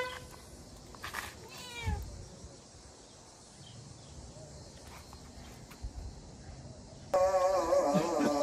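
A cat meows a few times over outdoor background noise, with rustling and a louder burst of activity near the end.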